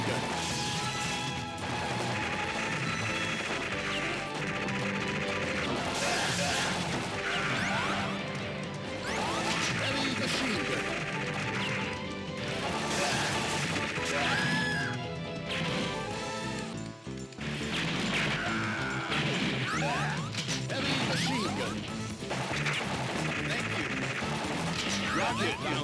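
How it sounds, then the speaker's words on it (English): Metal Slug arcade gameplay running on a Le Potato single board computer blasts rapid machine gun fire amid loud crashes, explosions and game music in a continuous dense barrage. "Machine gun."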